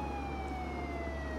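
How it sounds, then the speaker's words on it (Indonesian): A police siren wails continuously in the Contraband Police video game, a smooth tone gliding slowly downward over a low engine hum. "Sirine."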